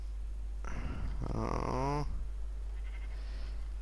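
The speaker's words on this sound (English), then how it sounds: "Sheep, I heard you." A single drawn-out Minecraft sheep bleat rises over a steady low hum, then a fainter second bleat follows.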